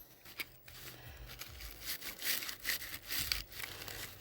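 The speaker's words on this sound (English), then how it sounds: "I like to rub the paper towel with the brush" A brush scrubs and rubs against a paper towel soaking up liquid flux cleaner on a PC board. The scratchy, uneven strokes come close up, with short pauses between them and no talking.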